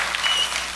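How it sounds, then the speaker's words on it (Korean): A small group of church youth claps in a short burst of applause, close and lively for under a second. "박수 소리 한 번 더 들려주세요"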